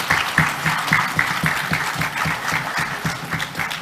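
An audience in a church claps for 25 teen award honorees, a sustained, fairly close round of applause with individual claps standing out in a loose rhythm.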